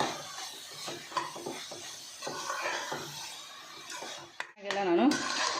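Soya chunks and masala are stirred in a cooking pan for pulao, with repeated scraping and clinking of a metal spoon and faint sizzling, followed by a louder clatter near the end.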